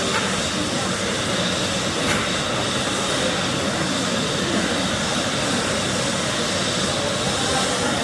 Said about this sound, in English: There's General Electric CF34 engines.